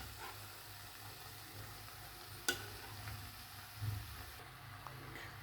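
Cooked macaroni is stirred into hot tomato sauce in a pan for an Indian-style masala pasta. It gives a quiet, steady sizzle with occasional soft scraping knocks of the spoon, and no talking.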